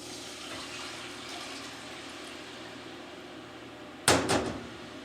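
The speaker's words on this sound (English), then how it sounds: "Time to add the water." Water poured into a pot of onion soup, a sudden close splash and gurgle after a quiet stretch of low simmering hum, fading quickly, with no talking.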